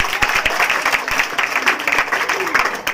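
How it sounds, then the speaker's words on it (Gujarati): An audience at a children's magic show applauds a boy called up to the stage, giving loud, uneven, close clapping with a few sharp individual claps and voices talking underneath. "પ્રિન્સભાઈ માટે જોરદાર તાળીઓ થઈ જાય"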